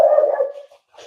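A dog barks once loudly in the background at a pet shop product expo, a short harsh yelp that trails off, followed by a faint second sound.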